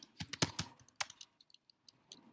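Computer keyboard keys typed in a quick burst of several close clicks while entering a note into an online course lesson, then a few sparse, lighter taps, with no talking.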